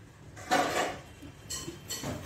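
A pan is set down on a gas stove with a loud metallic clatter, followed by a few lighter clinks of pots and utensils, close and with no talking.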